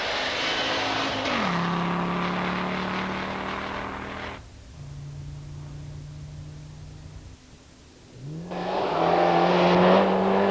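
An Audi 200 Quattro rally car races past at a 1992 junior championship rally stage in Somero, its engine roaring loud and close, dropping away to a steady distant drone, then surging back with hard revving.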